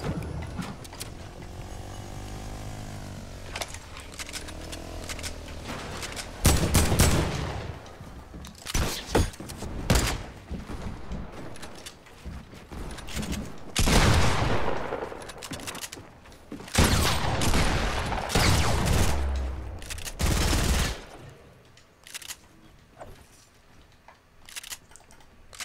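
Bursts of Fortnite gunfire crackle through a busy battle, with clustered rapid shots, sharp single reports and mechanical clicks coming in irregular waves over about twenty-five seconds.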